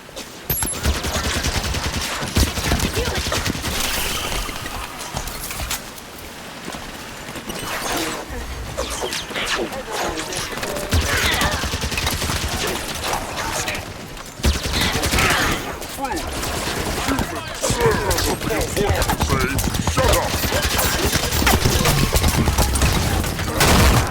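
Sustained turret and weapon fire in Halo 5: Guardians combat, heavy rapid bursts and crashes layered with game voices calling out, loud and continuous.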